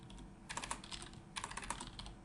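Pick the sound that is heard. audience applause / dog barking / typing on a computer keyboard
typing on a computer keyboard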